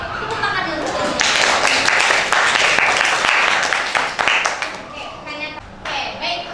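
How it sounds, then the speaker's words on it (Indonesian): A classroom of students claps together during a lesson, a dense, loud burst of applause that swells for a few seconds and then thins out, with a teacher's voice and children's voices around it. "Tepuk tangan dulu."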